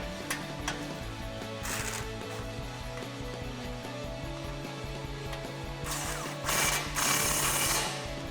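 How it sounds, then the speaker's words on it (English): An impact gun with a 14mm socket tightens stainless steel exhaust bolts on a Toyota Tacoma, giving two short, faint rattling bursts separated by a quiet stretch of low workshop hum. "now we can grab our 14mm socket on an impact gun and tighten these down."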